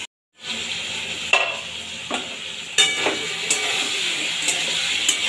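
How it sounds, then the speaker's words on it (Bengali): Cut pointed gourd, ridge gourd, eggplant and pumpkin sizzle steadily in a frying pan after a moment of silence, with a few sharp stirring clinks and scrapes rising above the hiss. "সবজিতে একটু হালকা ভাজা ভাজা হয়েছে।"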